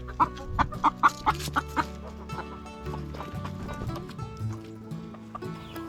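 Ameraucana hens cluck close by, opening with a quick burst of sharp, evenly spaced clucks followed by softer, lower murmuring calls that trail off.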